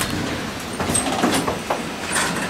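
An elevator door on a Dover Impulse elevator at Nauticus in Norfolk, Virginia slides with a steady whooshing rumble and a few light knocks, loud and close with no talking.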